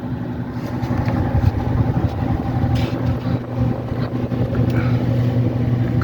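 Makeup air from a furnace blows through a duct as a steady, close, rushing roar with a low droning hum underneath and occasional buffeting from air striking the microphone, with no speech.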